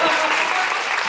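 Audience applause at a Korean musical talkback session, a brief, dense burst of clapping from a seated crowd, even and fairly loud throughout.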